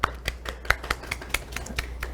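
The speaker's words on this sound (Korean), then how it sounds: "그럼 큰 박수로 교수님을 모셔보도록 하겠습니다." A small audience at a Saturday science lecture welcomes a professor with sparse, scattered claps, a handful of distinct sharp hand claps at uneven intervals in a quiet room.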